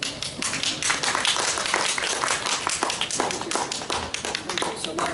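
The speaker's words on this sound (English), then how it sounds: "Let's give Clara another big round of applause" Audience applause at a smart city expo tech panel, a steady wash of many hands clapping at moderate loudness, sustained evenly across the whole stretch with dense overlapping claps.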